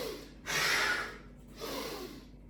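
Two sharp, breathy inhalations during an AMRAP workout set: a strong one early and a softer second about a second later, close and alone with no talking.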